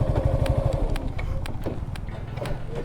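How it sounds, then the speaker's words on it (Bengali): A motorcycle engine idles close by on a road toward Alikadam's Dim Pahar, a low rhythmic putter that runs steadily throughout, with faint light knocks and clatter over it. "বাইকটা এখানে রাখি"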